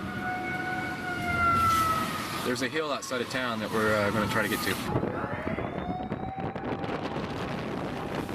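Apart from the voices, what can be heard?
tsunami warning sirens in Japanese coastal town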